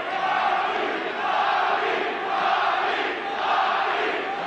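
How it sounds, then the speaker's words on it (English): A boxing crowd at a bout between Rafael Limon and Bobby Chacon chants in a rising and falling rhythmic roar, loud and dense, with many voices blending together in a large arena. "The crowd is chanting Bobby."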